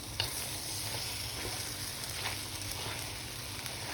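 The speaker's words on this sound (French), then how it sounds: "Et je vais laisser encore mijoter un petit peu." Vegetables simmer over high heat in a pan, giving a steady soft sizzle broken by occasional scraping stirs, moderately close with no talk.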